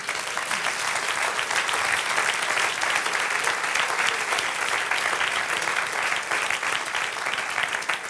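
A church congregation applauds during a sermon, a long, sustained and loud burst of many hands clapping that holds steady without letting up.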